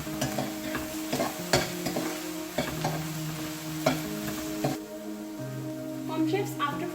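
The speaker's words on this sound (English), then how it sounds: "we need to roast the onion on high flame, but we do not need to roast it too much. So keep stirring so that it doesn't get burned." Chopped onion roasting on a high flame for street-style pav bhaji, stirred steadily in a pan: continuous close sizzling with repeated scraping and clinking strokes of the spoon, loud and steady throughout.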